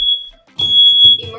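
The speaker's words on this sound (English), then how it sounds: "Smoke alarm silenced." A kitchen smoke alarm shrieks with a steady high electronic tone over a burning pineapple upside-down cake, sounding briefly, pausing, then resuming loudly with household clatter and movement beneath it.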